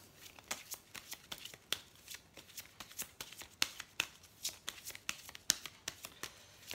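A deck of angels-of-love oracle cards is shuffled by hand, giving a rapid, irregular series of crisp riffling flicks and slaps, close and fairly quiet.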